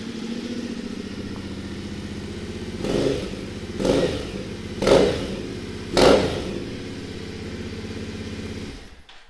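A 2010 Triumph America 865 cruiser motorcycle idles with a steady low rumble, then its throttle is blipped four times in short, evenly spaced revs before the engine cuts out, close by and with no talk.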